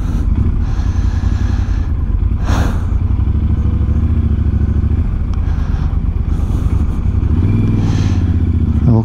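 Heavy touring motorcycle being pushed and maneuvered uphill, a continuous low idling engine rumble with occasional clatters and scrapes, close and loud.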